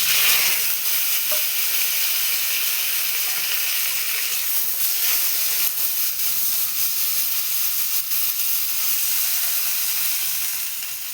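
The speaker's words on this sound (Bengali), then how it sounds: "কড়াইতে তেল দিয়ে দিয়েছি এবার এর মধ্যে আমি শিমগুলোকে দিয়ে" Flat beans fry in oil in a wok with an even, hissing sizzle that holds steady throughout and fades slightly at the end.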